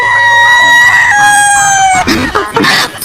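A rooster crows loudly and close, one long drawn-out call with a rising then falling tone, followed by a few rough clucking sounds at the end.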